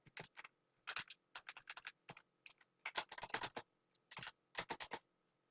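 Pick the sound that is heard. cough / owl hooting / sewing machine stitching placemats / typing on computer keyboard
typing on computer keyboard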